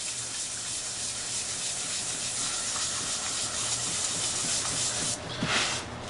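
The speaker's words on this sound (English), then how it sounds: "I'm just going to take the 600 and sand a little bit of this back" Fine 600-grit sandpaper sands back leather dye on a maple wood surface, giving a continuous close scratchy hiss of steady rubbing that briefly dips near the end.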